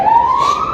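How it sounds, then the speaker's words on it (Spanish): An ambulance siren passes close by as a loud, steady wailing tone that slowly rises in pitch and fills the short moment on its own. "Me va pasando una ambulancia ahí."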